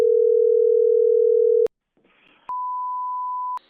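A telephone line gives a steady, loud dial tone, then a short gap of faint noise, followed by a higher single continuous tone, while a call is placed to a local coin shop.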